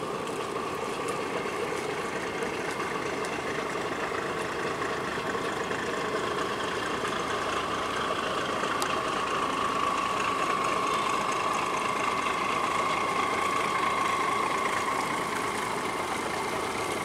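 A small boat engine idles steadily on a narrow canal in Vietnam for the whole stretch, a constant low rumble with a faint mid-pitched hum, and no one speaking.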